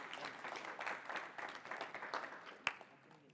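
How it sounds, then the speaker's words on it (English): Faint applause from a conference audience at the FIRST Championship in St. Louis, a soft, continuous patter of many hands with one sharper clap near the end. "Let's give Danny a round of applause."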